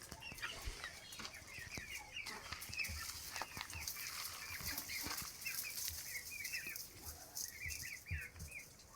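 Chickens and roosters cluck and chatter repeatedly at a distance, with scattered wing flaps and rustling amid a faint farmyard background.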